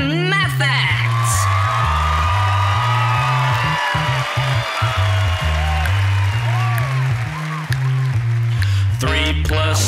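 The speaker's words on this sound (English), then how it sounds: "please give a round of applause to Meet the Math Facts!" An audience applauds and cheers at a children's math show introduction, clapping and whoops mixed with loud bouncy music throughout, steady and close.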